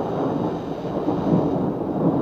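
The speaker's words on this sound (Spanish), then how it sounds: "No, es una tormenta, Carlos." Cartoon thunderstorm: a deep, rumbling roll of thunder that swells and churns for a couple of seconds, dense and low, heard alone without voices.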